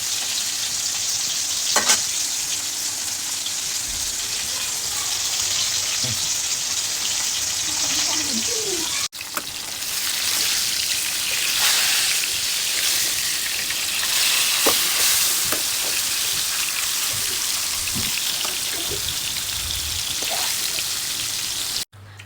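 Fish frying in a pan with plenty of sliced onions for a home-style fish barbecue, a steady loud sizzle and crackle running throughout with occasional spatters and stirring scrapes.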